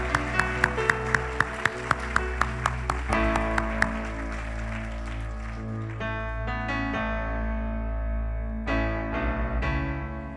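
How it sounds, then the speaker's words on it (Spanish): A church congregation claps for the Lord during a Spanish-language sermon, a steady run of sharp, loud handclaps that fade after a few seconds into sustained music and room sound. "Dale un fuerte, fuerte aplauso al Señor."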